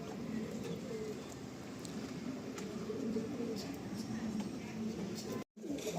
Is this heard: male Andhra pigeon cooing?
yes